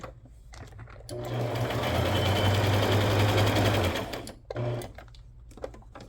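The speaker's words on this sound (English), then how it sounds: "I'm just going to alternate between a zigzag and a straight stitch" A sewing machine stitches a book-page pocket with a fast, steady whirring run of about three seconds, flanked by brief starts and short bursts, close and clear with no speech.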